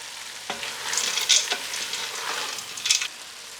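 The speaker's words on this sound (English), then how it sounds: "Go ahead and stir those up, letting those get soft." Vegetables being stirred as they fry in a pot for Brunswick stew, a steady close sizzle with a few scraping stirs of a utensil rising above it, no voices.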